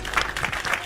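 A podcast audience welcomes a guest with applause, a brief, dense burst of clapping that stays steady and moderately loud and fills the whole short moment.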